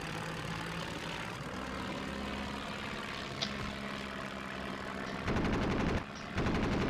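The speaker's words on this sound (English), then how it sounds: "Let me take the gun and give him some bullets." Video game gunfire in a kitchen destruction scene, a rapid automatic burst near the end that cuts off briefly and resumes, loud over a steady engine-like background drone.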